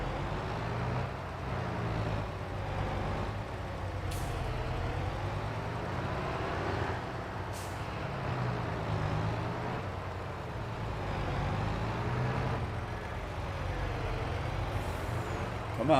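A heavy truck with an upgraded big engine in Farming Simulator 22 labors under load, a steady low droning rumble with rising and falling strain and occasional hissing bursts, while a voice talks over it.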